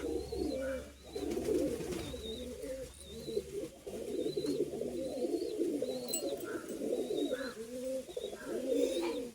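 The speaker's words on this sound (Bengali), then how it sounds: "এটা মাদা পায়রা।" Pigeons, a high-flying breed, coo steadily in a low rolling murmur throughout, with a few faint higher chirps from other birds over it.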